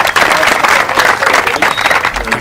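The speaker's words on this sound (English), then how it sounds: "another round of applause for Lily King, please" An audience breaks into loud, continuous applause for Lily King, a dense wash of clapping with a faint crowd murmur underneath.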